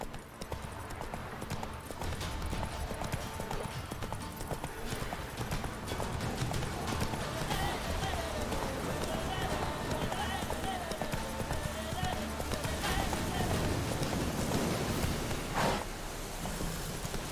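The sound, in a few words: horse Roach galloping, from video game Witcher 3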